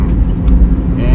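Inside a car while driving, a loud, steady low engine and road rumble hums throughout, with a faint voice audible over the cabin noise.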